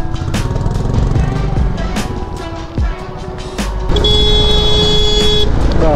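A vehicle drives along a road near Ghum in Darjeeling with a loud, steady engine drone and road rumble, while horns toot in the surrounding traffic and a long horn blast sounds toward the end.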